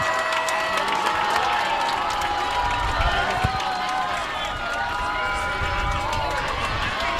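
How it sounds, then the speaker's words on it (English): Steady crowd applause and cheering at a high school homecoming football game in the stands, a sustained wash of clapping and voices filling the stadium with an announcer faintly underneath. "It's a beautiful applause here from the Silver Hawk crowd."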